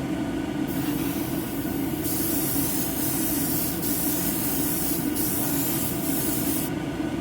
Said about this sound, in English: Spray's nice for that too.